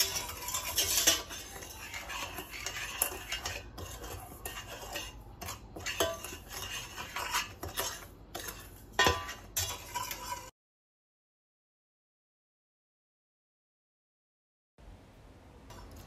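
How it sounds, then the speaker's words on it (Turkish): Cake batter with a packet of vanilla being stirred in a bowl, giving rapid close clinking and scraping of a utensil against the bowl for about ten seconds, then dead silence and faint room noise. "Bir paket vanilya ekledikten sonra tüm malzemeyi karıştıralım."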